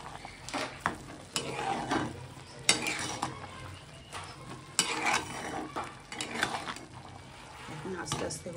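Ghee and sugar go into cooked rice in a pan, with repeated spoon scrapes against metal over a low sizzle, close by, with a voice speaking at times among the stirring.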